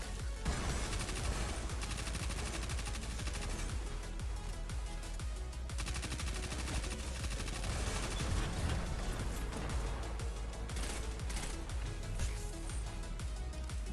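Sustained gunfire from the Destiny 2 legendary Praksis technorat mission as grenades are shot, steady, dense and fairly quiet, with overlapping shots and muffled impacts running without pause.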